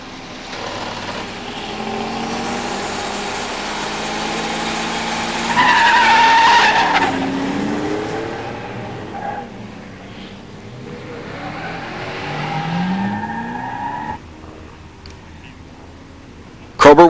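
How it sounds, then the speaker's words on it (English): A 1987 Buick Grand National and a 1987 Camaro Z28 launch side by side at a drag strip, engines roaring with tire squeal, revving up through the gears and then fading into the distance. "In the near lane, John Krober's 87 Grand National. In the far lane, an unidentified last-minute entry in an 87 Camaro Z28."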